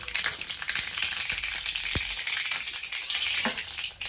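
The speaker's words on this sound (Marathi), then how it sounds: "तेल पण आता चांगलं तापले, तर फोडणीसाठी मी मोहरी टाकून घेतले। 1 चमचा जिरे आहे" Mustard seeds and a spoon of cumin sizzle steadily in hot oil for tempering, a dense continuous frying crackle with a few sharp pops, close and loud throughout with no talk.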